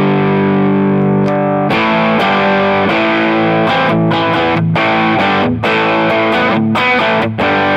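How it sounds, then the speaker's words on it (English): An electric guitar runs through an overdrive pedal with the gain turned up, giving a sustained distorted chord followed by a series of crunchy, rhythmic strums and notes, loud and close. "So this is my main overdrive sound."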